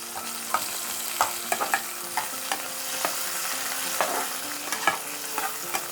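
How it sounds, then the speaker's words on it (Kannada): Finely chopped onions fry in a tempering pan until golden, a soft continuous sizzle with frequent spatula clinks and scrapes against the pan as they are stirred. "ಈರುಳ್ಳಿ ಸ್ವಲ್ಪ ಗೋಲ್ಡನ್ ಕಲರ್ ಬರೋವರೆಗೂ ಕೂಡ ನಾವು ಫ್ರೈ ಮಾಡ್ಕೋಬೇಕು"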